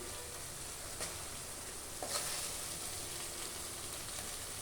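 Eggs dropped into hot masala in a pan, a soft steady sizzle with a couple of brief crackling bursts as they hit the oil, faint and without talk.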